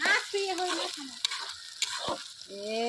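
Garlic, ginger and onion frying in a pan with ground spice paste, a close hiss with a few scraping stirs, while a voice speaks briefly partway through.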